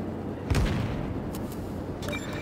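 Naval guns fire in a warship video game, a single heavy boom followed by lighter distant shell impacts over a constant low rumble, with no voices.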